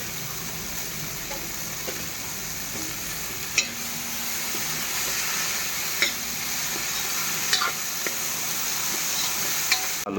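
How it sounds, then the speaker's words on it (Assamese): Cumin and tenga mora greens fry in hot oil, a constant close sizzle broken by a few sharp clicks of a utensil against the pan. "গৰম তেলত জিৰাকো অকণমান ভাজি লওঁ তেলতে দিলোঁ ভাজোঁ আৰু টেঙা মাৰটো ভাজি লওঁ বুঢ়াকৈ"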